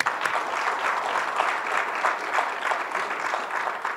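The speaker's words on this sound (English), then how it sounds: "let's give that a round of applause" An audience at a civil rights event for Jason Walker applauds a speaker, steady dense clapping from a large crowd that holds at an even level for several seconds.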